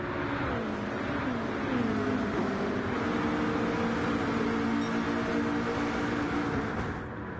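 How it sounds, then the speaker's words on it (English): Engine roar from NASCAR Cup Series race cars in a racing video game at Watkins Glen, a steady, loud, continuous drone with overlapping engine tones held throughout, fading slightly at the end. "Cars thundering down towards the inner loop and the outer loop."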